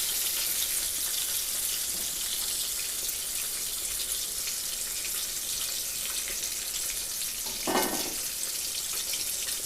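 Oat-coated chicken fries in oil in a pan, giving a continuous even sizzle with one brief louder burst near the end and no talking.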